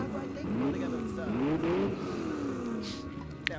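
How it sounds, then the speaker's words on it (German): A sports car engine in the video game Watch Dogs revs and hums, its pitch rising and falling over a few seconds, moderately loud with a sharp click near the end. "Der Wagen schnurrt, was?"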